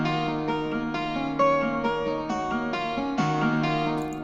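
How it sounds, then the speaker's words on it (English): Melody played on a guitar preset in Omnisphere, plucked notes in a steady repeating phrase with bright, sustained tones and a mild effected sheen, heard alone without talk. "But right now, it's playing with a guitar."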